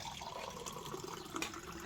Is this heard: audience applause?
no